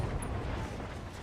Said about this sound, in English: SRM ammo explosion.